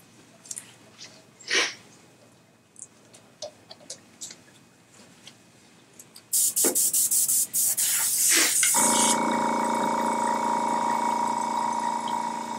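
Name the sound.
airbrush spraying zombie special effects makeup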